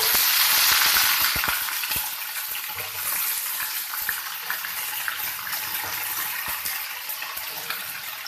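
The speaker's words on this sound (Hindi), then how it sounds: "अब हमने इसके अंदर डालने हैं आलू।" Potatoes tumble into a pan of frying onions for aloo singri sabzi, setting off a loud, dense sizzle that swells at the start and settles into a steady crackling hiss with scattered pops.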